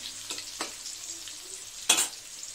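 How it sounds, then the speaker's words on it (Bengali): Panch phoron and dried red chillies hitting hot oil, a soft steady sizzle with a few sharp crackles and pops, one louder burst near the end. "দিয়ে দেবো পাঁচফোড়ন আর শুকনো লঙ্কা।"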